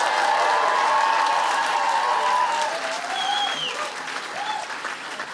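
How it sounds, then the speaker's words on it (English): Loud, sustained audience applause and some cheering at a Roses 2024 varsity sports event, dense clapping filling the whole stretch, with a few whistles and shouts rising above it. "I think it could be a bit of a louder applause for them,"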